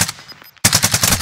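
Machine gun fire in Call of Duty Warzone: a few scattered shots, a brief gap, then a loud continuous burst of rapid, evenly spaced automatic rounds close up.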